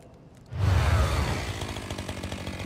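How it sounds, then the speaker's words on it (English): A chainsaw roars into life in a Warhammer 40K Rogue Trader game cutscene, starting abruptly after a half-second lull and revving loud and gritty, then settling into a sustained buzzing drone. "This little cutscene's so cool. He shows up with his freaking chainsaw."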